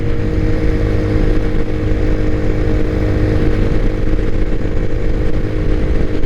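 Motorcycle ridden around Hamilton, its engine droning loud and steady from close by throughout, with a rough mid-range rumble and no talk over it.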